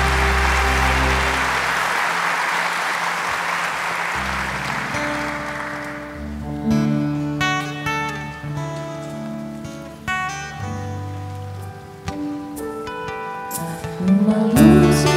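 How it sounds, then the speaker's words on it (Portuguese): A church congregation at Sunday Mass claps for the Gospel reading, a dense wash of applause for several seconds that fades as organ or keyboard music and singing take over. "Vamos aplaudir a palavra."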